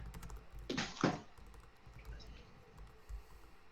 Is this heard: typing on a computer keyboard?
yes